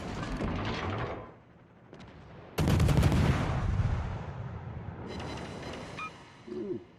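Heavy naval guns from a warship in World of Warships fire at a submarine, a loud booming salvo with rolling decay followed by quieter mechanical clanks and a further short burst near the end.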